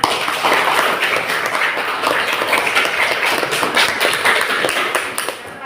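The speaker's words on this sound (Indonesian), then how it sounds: "Tepuk tangan buat kelas 6." Sixth-grade class in a school classroom clapping together, a loud, busy burst of many small hands close by, continuing steadily before tapering off at the end.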